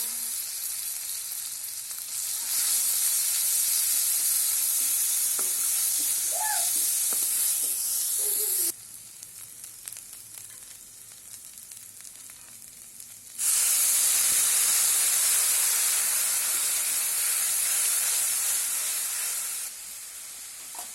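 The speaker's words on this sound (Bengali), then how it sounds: "তেল দিয়ে দিলাম কপির তরকারি। এই যে পেঁয়াজ, বাটা মশলা" Onion and ground spice paste sizzle loudly in hot oil for a cauliflower curry, a broad steady hiss that drops away in the middle and then surges back just as strong, with faint scraping from the pan underneath.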